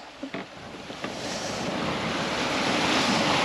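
Steady wind and rushing water surround a sailboat at sea off Gibraltar, running downwind with full sails. A few faint knocks come early, then a broad, rising roar of wind and waves dominates.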